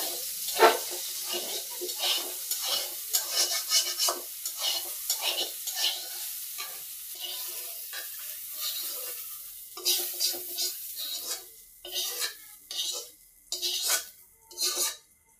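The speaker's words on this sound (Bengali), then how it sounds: "এই যদি আমি সুন্দর করে ভাজে নিচ্ছি লাল লাল করে।" Soybean curry is stir-fried in a pan, a spatula scraping and clinking against the metal in quick irregular strokes over a soft sizzle, close and fairly loud, with no voices.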